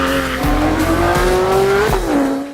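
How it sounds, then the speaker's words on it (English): A Porsche 911 GT2 RS turbo engine roars loud and close, its pitch climbing steadily under acceleration, then dipping briefly and rising again around a shift, alone without voices. "you're gonna generate a really typical Porsche turbo sound"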